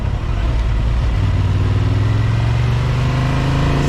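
Honda Transalp 750 twin-cylinder motorcycle engine humming loud and close while riding, a steady drone with a slowly rising pitch and no talk.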